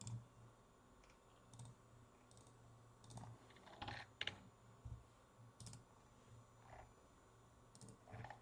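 Quiet, sparse key taps on a QWERTY laptop keyboard with a numpad, coming in small bursts with pauses between, faint and close under a low steady hum.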